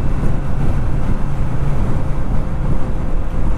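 Steady, loud wind buffeting the microphone on a moving 2018 BMW K1600 Grand America touring motorcycle, a continuous low roar of rushing air with no pauses.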